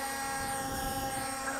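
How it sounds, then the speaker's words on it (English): A C Fly Faith 2 4K gimbal camera drone climbing upward, a steady whirring propeller drone that holds even and close for the whole moment with no break. "It's a fast moving drone."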